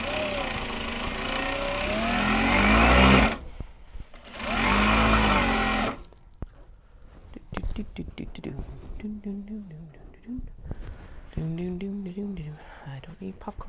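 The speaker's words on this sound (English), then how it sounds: "So what I gotta do now is sew the interior here" A sewing machine stitches the interior of a Japanese fabric tote bag in two loud, close runs of whirring, then stops while a person talks quietly over small clicks and handling noises.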